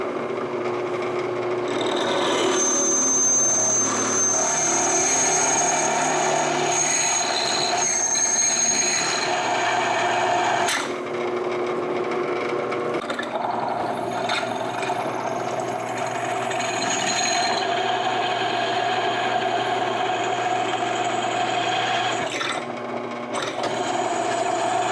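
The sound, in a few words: metal drilling with oiled drill bit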